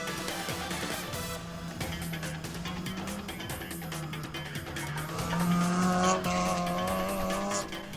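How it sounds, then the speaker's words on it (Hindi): A Stock D category rally car at the 11th Hub Rally Cross 2024 speeds around the dirt track, its engine rising and falling between gear changes, with tyre squeal and a louder surge as it comes nearer. "ये एक और गाड़ी अपने ट्रैक पर रवा दवा है, फर्राटे भरती हुई ये गाड़ी"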